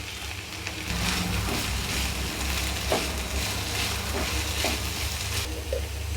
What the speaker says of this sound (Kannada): ಫ್ರೈ ಮಾಡ್ಕೊಂಡಿರೋ ಕ್ಯಾಬೇಜ್ ಹಾಕೋತೀನಿ